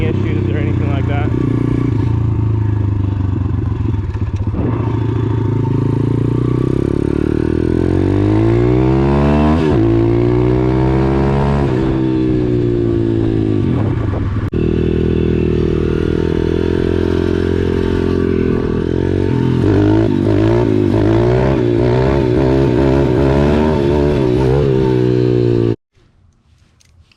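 A pit bike's small single-cylinder engine runs and revs up and down close by for nearly the whole stretch, loud and throbbing, with rising and falling pitch before it cuts out near the end.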